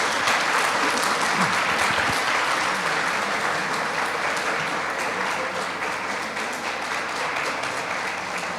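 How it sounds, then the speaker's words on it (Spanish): A church congregation applauds steadily and fairly loudly throughout, a dense wash of clapping with little variation. "yo quiero invitarles a que a todos ellos de corazón les demos un aplauso de cariño"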